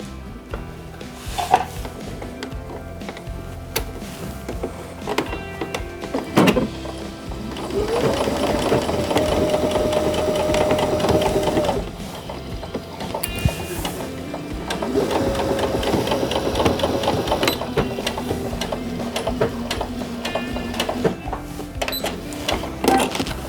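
A home sewing machine stitches seams in fabric for a stuffed toy goose, with long continuous runs of mechanical whirring broken by short pauses and handling clicks, close and steady, no talking.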